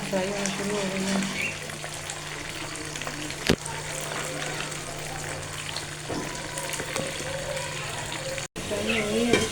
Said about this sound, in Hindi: हमारी भिंडी जो है ना फ्राई होना शुरू हो गई है